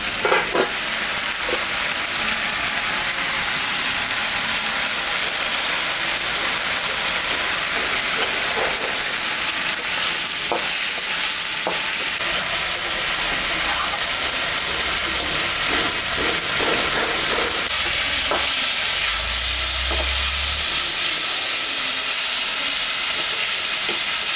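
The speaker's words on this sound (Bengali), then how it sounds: "শাকটা ভাজা ভাজা হয়ে গেছে" Dhenki shak fern greens fry in a pan with a constant close sizzle and hiss, broken by scattered scraping clicks of stirring over more than twenty seconds, with no talking.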